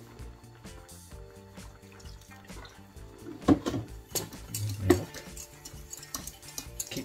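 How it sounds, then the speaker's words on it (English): Scallop sauce for Coquilles Saint Jacques is stirred in a pan, soft quiet scraping and ticking spoon strokes with a few louder knocks near the middle, alone without speech. "Stirring it."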